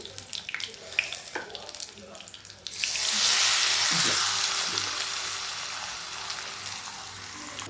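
Pumpkin flower pakoras dropped into hot oil in a small kadhai, a sudden loud sizzle that swells and then holds steady, preceded by a few clinks and faint background noise.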